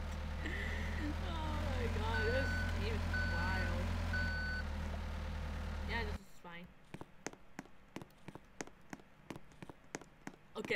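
Truck reversing beeps ring out in a steady, evenly spaced series while a delivery truck backs up to park in a pizza-delivery video game, following a stretch of engine rumble and other game noise.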